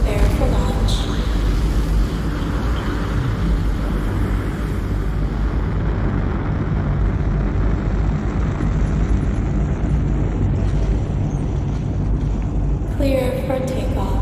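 A starship takeoff rendered as a sound effect: a loud, steady low rumble like a jet or rocket engine roaring without a break, with faint beeps and a brief chirp near the end.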